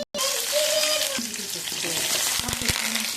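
Green chilies dropping into hot tempering oil, a loud steady sizzle that bursts in after a brief silence and keeps crackling, with a voice talking over it.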